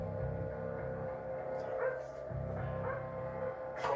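Police dogs bark at a tense standoff scene around a contained vehicle, sounding faint and somewhat distant as a few intermittent barks and yips with whimpering between them.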